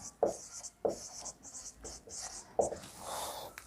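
Chalk or marker writing on a board during a chemistry lesson, with several short scratchy strokes in bursts, fairly close and clear, and no talk over them.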